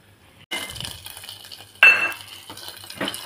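Dried red chillies and curry leaves frying in hot oil in a pan for a tamarind pulihora tempering, a steady sizzle with a sharp burst of spatter partway through and light utensil clinks, no voices.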